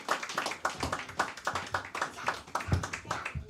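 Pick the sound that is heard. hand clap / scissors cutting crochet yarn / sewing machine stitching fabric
hand clap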